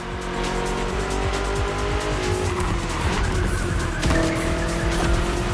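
BMW M cars in The Crew Motorfest, driven over long distances: a loud, steady engine roar with rising and falling revs and gear changes, joined by screeching tires, close and continuous throughout.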